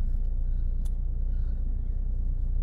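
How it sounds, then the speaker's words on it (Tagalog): A car's engine rumbles steadily and low as the vehicle begins to pull away, a continuous close drone with no voices over it. "umandar na yung sasakyan"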